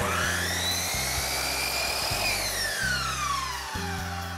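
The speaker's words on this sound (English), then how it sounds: "we're going to move the saw to the right 45-degree miter angle, and we'll make our cut" Miter saw cutting polyurethane crown molding at a 45-degree miter angle, a loud close motor whine with a pitch that rises and falls as the blade passes through the piece, alone without talk.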